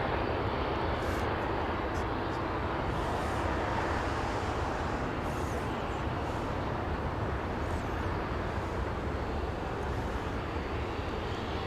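A WestJet airliner roars steadily at Los Angeles International Airport, a broad, continuous, loud jet engine rumble that holds for the whole stretch.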